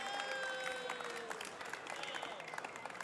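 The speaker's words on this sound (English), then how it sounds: "Can we get a round of applause for all of our competitors in the semifinals?" Faint applause from a convention audience for Mario Kart 8 Deluxe tournament semifinalists, a scattered patter of clapping that fades and thins over a few seconds, with tonal game or stage sounds underneath.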